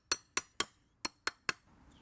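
Six sharp metallic taps from a large socket driving a seal into a Toyota Sienna valve cover, three quick strikes, a short pause, then three more, close and crisp with no talking.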